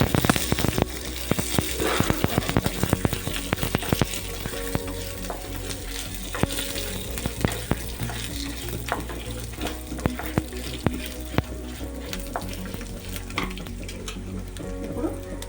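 Whole spices, including peppercorns, cloves and cumin, fry in hot oil in a pan for mutton curry, with a loud steady sizzle and frequent close scraping and clinking of a utensil stirring against the pan.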